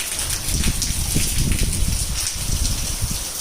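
Steady heavy rain falls on open fields, a thick unbroken wash of drops and splashing, close and loud without any talk.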